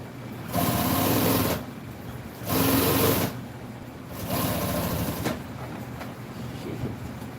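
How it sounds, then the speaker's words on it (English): Sewing machine stitching a French seam, running in three loud bursts of steady mechanical whirring with short pauses between, then a quieter continuous run to the end; no talking. "I'm going to put a French seam on it. So I'm going to try to sew it really straight."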